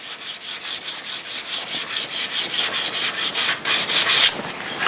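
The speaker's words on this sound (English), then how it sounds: "it's a good idea to then sand along the length of the grain and remove any of those scratches" Wood spinning on a lathe is sanded along the grain with abrasive paper, giving a loud, continuous rubbing hiss that pulses in quick, even strokes, close up and without talk.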